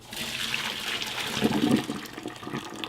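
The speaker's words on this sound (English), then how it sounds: "Gonna get some cold water." Cold water pours and splashes steadily into a bowl, a close, continuous rushing sound with no talking.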